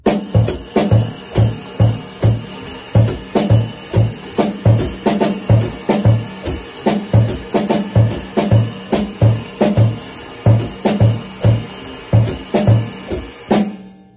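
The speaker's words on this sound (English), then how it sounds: "playing all the eighth notes with the left hand and playing all quarter notes with the bass drum" A drum kit plays a steady groove: bright eighth-note strokes played with the left hand over a thudding bass drum on each quarter note, loud and close, with no voices.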